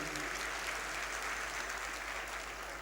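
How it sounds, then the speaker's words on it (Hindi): Audience applause at an Indian company's tenth anniversary event, a dense, continuous wash of clapping from a large crowd, even in loudness throughout with a low steady hum beneath. "एक ज़बरदस्त ताली होनी चाहिए"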